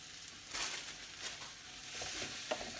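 Onions frying in a pan for curried onion and potato soup: a faint, soft sizzle with a few brief scraping stirs, quiet and close, no voices.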